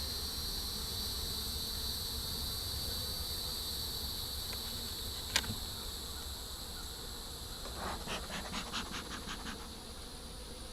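Honey bees hum as a steady, dense drone around an opened long hive, with a brief sharp click midway and a fluttering buzz that rises near the end.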